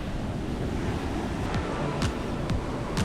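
Sea waves wash against the shore at Kozhikode in a continuous, fairly loud roar of surf, with wind buffeting the microphone and a few brief surges.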